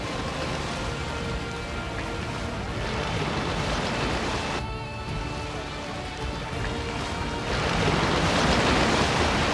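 Steady rushing surf, like ocean waves breaking and washing continuously, with a brief dip before the roar swells louder again, off South Africa.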